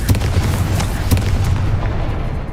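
A Confringo fire spell blasts in Hogwarts Legacy, heard as a loud, dense rumbling explosion with sharp bursts near the start and middle, sustained boom filling the clip before tapering slightly at the end.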